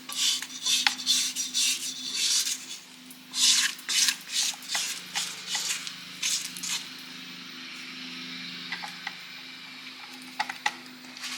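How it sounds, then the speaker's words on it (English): A spatula scrapes down the sides of a bowl while mixing cake batter, giving a series of close, rhythmic rubbing strokes that thin out and fade toward the end. "Scrape down the sides a little bit so we can get this all mixed in."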